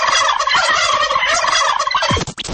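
A turkey gobbles loudly in a Christmas-themed Greek radio advert, a dense rapid warbling rattle that runs for about two seconds and then breaks off into a short burst of other sound.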